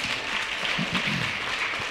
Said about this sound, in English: Round of applause for Pharis.